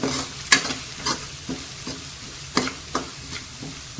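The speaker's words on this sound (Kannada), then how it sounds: "ಇದನ್ನು ಕೂಡ ನಾನೀಗ ಎಣ್ಣೆಯಲ್ಲಿ ಫ್ರೈ ಮಾಡ್ತೀನಿ ನೋಡಿ" Turmeric powder frying in hot oil while being stirred, a close sizzle broken by regular scraping strokes of a spoon against the pan, every half second or so.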